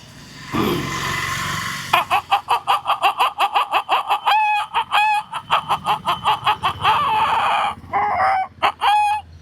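A person imitates a hen's cackle after laying an egg: a rapid run of sharp, rhythmic clucks building into loud, drawn-out squawks, close and alone.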